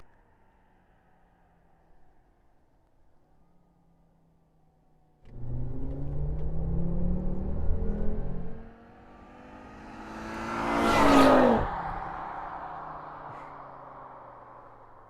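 A Volvo S60R's turbocharged engine idles, then roars loudly as it accelerates hard with a rising whine, fading briefly before a second surge with a high whistling turbo rise.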